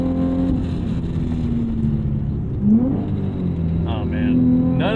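A 2006 Infiniti G35 engine revving and dropping through heel-toe downshifts, heard from the cabin as a steady drone with brief rev blips and pitch sweeps, a voice talking over it.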